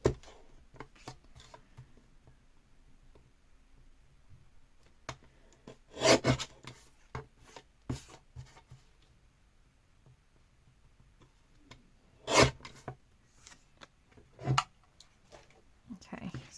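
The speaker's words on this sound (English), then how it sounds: "So let's bring the trimmer in." A paper trimmer slices a card page with a few short, scraping rasps spaced out among quiet handling noises, close and fairly clear.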